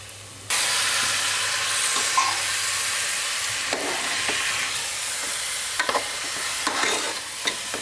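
Chicken pieces fry in hot masala in a pan for a mutton kola urundai kulambu dish, a steady loud sizzle with scraping stirs throughout, no talking.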